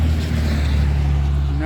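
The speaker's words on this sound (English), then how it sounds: "Nope, just a really loud pickup truck." A loud pickup truck passes close by on a road, its heavy low engine rumble steady and droning throughout, with no talking over it.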